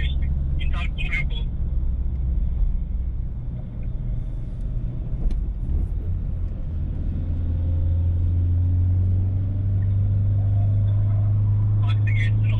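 A Renault Clio 1.5 dCi turbo diesel with 65 hp climbing a steep hill, its engine droning as a low, steady rumble that grows heavier and louder toward the end, with brief voices and road noise at the edges.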